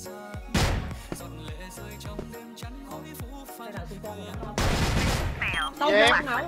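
Rapid bursts of gunfire crackle through a video game shootout from a clan-versus-clan match, with sharp repeated shots close and loud, a denser volley near the end, while players talk over the action.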